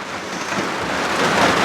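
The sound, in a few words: rain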